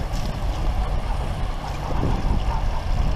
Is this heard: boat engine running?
yes